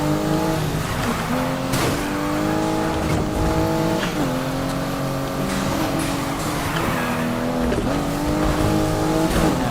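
Race cars engines roaring in Need For Speed Shift, loud sustained revving with rising and falling gear shifts, tire squeals and skids throughout a close, dense racing mix.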